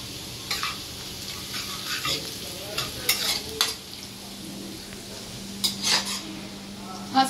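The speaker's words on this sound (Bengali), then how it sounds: "রসুন ভাজা হয়ে গেছে, এই যে চিলি ফ্লেক্স দিয়ে দিলাম" Garlic fried with chili flakes sizzles softly in a pan while a utensil stirs and scrapes in short, irregular bursts, with occasional metallic clinks close by.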